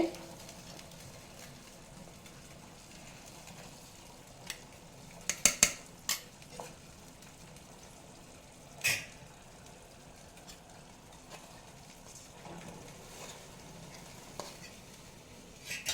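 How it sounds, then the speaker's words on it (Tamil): Rava semolina is stirred into milk in a pan, mostly a quiet low hiss. A few metal spoon clinks and scrapes stand out, in a small cluster midway and once more a little later. "இப்போ ரவையை போட்டு கலந்துட வேண்டியதுதான்"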